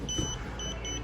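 A Leak Block water leak sensor gives short, thin, high electronic beeps in a quick repeating pattern over a low background hum.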